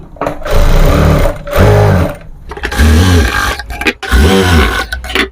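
A sewing machine stitches along the edges of a dress lining in loud bursts, four runs of steady motor whirring and needle clatter separated by short pauses.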